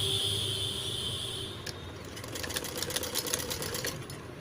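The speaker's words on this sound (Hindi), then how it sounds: "तो इसकी हम ऐसे स्टिचिंग करेंगे।" Sewing machine stitching blouse lining, heard as a steady motor hum with a faint whine that shifts into a rapid, close, rhythmic needle clatter partway through.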